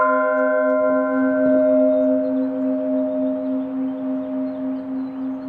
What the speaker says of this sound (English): And this will demonstrate just how well this bell resonates.